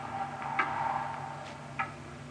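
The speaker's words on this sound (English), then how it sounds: "It's a loud clock, ain't it?" Faint, sparse ticks over a steady hum, with a couple of sharper clicks standing out; no talking.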